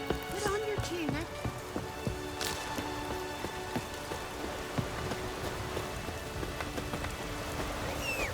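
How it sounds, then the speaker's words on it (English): Rain falling in The Witcher 3, a steady patter of drops on surfaces with scattered heavier splashes, under faint game ambience and a brief voice. "It's raining."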